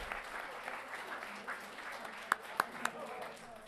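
An audience at a school governing board meeting applauds, a soft, fairly distant wash of clapping with a few sharper close claps near the end, and faint voices underneath.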